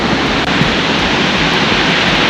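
A waterfall along a narrow pathway near the Lingdem hot water springs in North Sikkim gives a loud, unbroken roar of rushing water, a dense, even wash with no voices.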